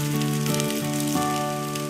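Bottle gourd rolls fry in oil in a pan over medium heat, giving a steady, close crackling sizzle with no talk.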